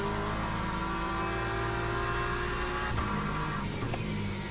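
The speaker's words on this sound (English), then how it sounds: "the hypercars are going past" Hypercars in the Le Mans Ultimate racing game drone past as a steady, smooth engine whine with faint overlapping tones, quiet and continuous.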